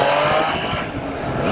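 Triumph Trident 660 motorcycle with an 81 hp three-cylinder engine, running continuously at steady loud revs as the bike circles, a dense close engine drone with a slight rising pitch and no talk.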